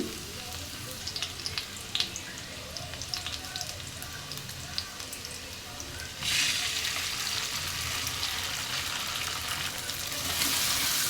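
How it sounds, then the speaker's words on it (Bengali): An egg fries with onions in oil in a pan, a continuous close sizzle with scattered pops and scraping stirs that grows louder and hissier partway through. "ডিমটা ভালো করে এভাবে নেড়ে চেড়ে দিয়ে দেবো"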